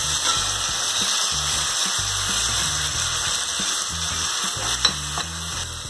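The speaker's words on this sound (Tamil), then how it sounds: "இப்போ கொஞ்சம் நல்லா மட்டன் வந்து ஃப்ரை ஆகி வரட்டும்." Boiled mutton frying in a pan for a spicy Madurai mutton fry, giving a continuous loud sizzle with rhythmic stirring scrapes and clanks running throughout, no voices.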